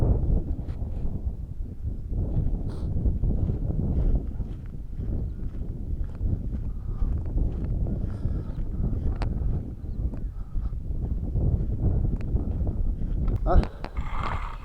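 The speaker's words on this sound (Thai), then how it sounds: "ลมก็ แรงอยู่ครับตอนเช้า" Strong morning wind buffets the microphone outdoors at a kite-flying field during a marathon flight of a Chula kite, giving a continuous low, rough rumble with gusty swells throughout.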